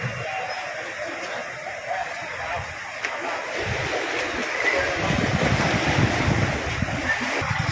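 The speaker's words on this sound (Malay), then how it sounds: "Angin kuat." Strong wind buffets the microphone with a steady broadband roar while water laps and washes along the bank of Sungai Lurus in Batu, a continuous loud rush that builds slightly in the second half.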